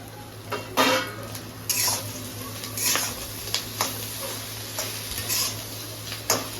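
Capsicum and onion frying in a pan for egg noodles, a soft sizzle under repeated clinks and scrapes of a utensil on metal in an uneven rhythm, close and with no speech.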